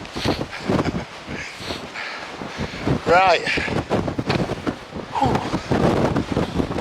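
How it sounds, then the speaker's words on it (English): Strong wind on an exposed fell top in the Lake District buffets the microphone in loud, uneven gusts, with someone speaking briefly and exhaling between them. "It's a bit breezy up here."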